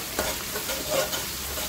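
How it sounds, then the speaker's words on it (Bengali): Spices fry and sizzle in hot oil for a vegetable and dried fish curry with eggplant, potato and tomato, a quiet steady hiss with faint stirring scrapes and no talk. "মশলাটা কষিয়ে নিয়েছি।"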